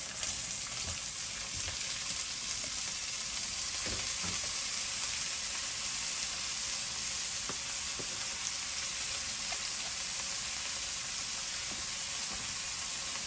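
Cabbage fries in oil with ginger, green chili and cumin, a constant quiet hissing sizzle, fairly even over its length, with a few faint clicks of stirring.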